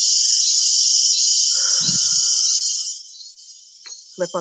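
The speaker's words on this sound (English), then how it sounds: "The cicadas are loud." Loud cicadas drone in a steady, high buzzing wall of sound that fades slightly partway through, while a person speaks briefly underneath.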